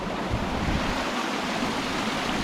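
Water rushing through a broken wall and flooding onto a slippery path near Culross, a steady loud roar of surging water and wave-like wash with wind noise, continuous throughout.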